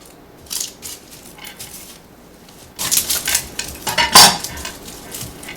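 A knife slices an onion in half on a cutting board for meatloaf, a few soft scrapes followed by a louder crisp cut and a clack of the blade against the board.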